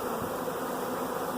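A honey bee swarm settling into a hive box hums in a dense, continuous buzz, close and steady with no voices over it.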